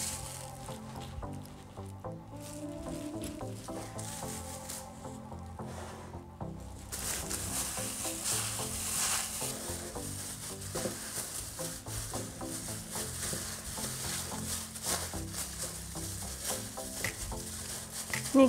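Minced meat filling with garlic for cabbage rolls being mixed by hand in a bowl, a continuous soft squishing and patting that grows denser partway through, alone without talk.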